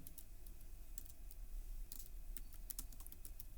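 Typing on a computer keyboard, with quick, light key clicks in uneven bursts over a constant low background hiss, close and fairly faint, with no voice.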